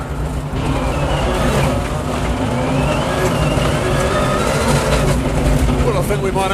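A WRC rally car builds speed hard in fourth gear, its loud engine roaring close and continuous. Braking into a corner follows. A voice talks over the engine.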